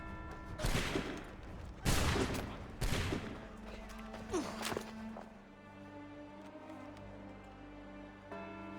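A musket volley fired in Assassin's Creed 3, three sharp loud cracking bursts in quick succession followed by shuffling and settling noises, then a quieter tail with a low hum and a voice.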